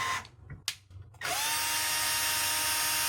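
Power drill running in forward drives a hanger bolt into a pre-drilled pilot hole for a coupler bracket: a few short clicks and bursts, then a sustained close, loud high motor whine.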